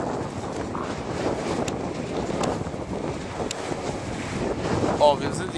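Strong wind buffets the microphone at a wind turbine site in Prinzhöfte, a steady broadband roar with gusty surges and a brief louder blast near the end, with no speech.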